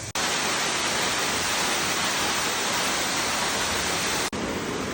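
Waterfall in the Odaesan mountains of South Korea, a loud, constant broadband roar of falling water that starts abruptly and holds steady, with a brief break near the end.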